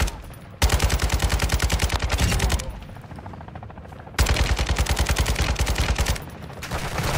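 Automatic weapons in Call of Duty: Modern Warfare II fire in two long, loud, rapid bursts separated by a quieter stretch of distant shots, with no talking.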